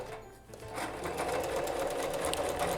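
A sewing machine stitching a punch needle cushion starts up after a brief pause and runs in a steady, fast, close whirring rhythm that continues to the end.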